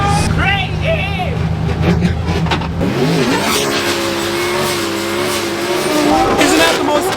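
A drift car engine revs and screams past amid tire squeal at a Drift Masters event in Finland, with crowd noise and voices underneath.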